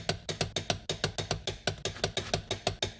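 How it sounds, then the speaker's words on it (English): A torque wrench clicks through a rapid, steady run of ratchet strokes, about five per second, while tightening on the wheel hub of a 2010 Subaru Impreza; close, crisp and mechanical with no talking. "Now, grab your torque wrench."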